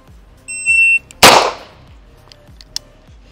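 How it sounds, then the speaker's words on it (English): A shooting drill with a handgun: an electronic shot-timer beep sounds first, then one loud, sharp gunshot that cracks and decays quickly. A faint click follows a moment later, with no talking. "I'm just gonna aggressively punch the gun out on target and shoot about the same exact speed."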